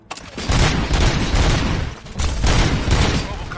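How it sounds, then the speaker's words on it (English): Sustained bursts of rapid gunfire in the game Robocop: Rogue City, loud and close, in two long volleys separated by a short lull. "Gunshots? What's going on?"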